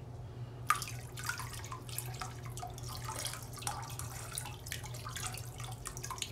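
Liquid vinegar pouring into a toilet bowl, a steady trickling splash that starts after a brief silence and runs continuously at close range over a low hum.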